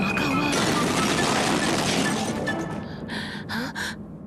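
A cartoon sound effect of a laboratory explosion: a loud, dense crashing and shattering burst lasting about three seconds, then fading into a few short cartoonish voice-like sounds.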